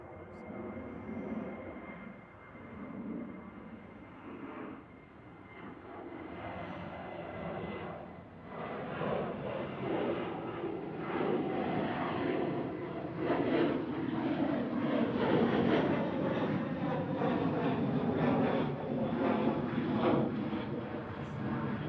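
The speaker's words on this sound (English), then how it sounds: "So this is GTUKF with a positioning flight down to Birmingham." Boeing 737-800 jet G-TUKF, a 17-year-old former Ryanair aircraft on a positioning flight to Birmingham, passing at Manchester Airport with a steady engine roar that swells and grows louder through the second half, voices talking over it.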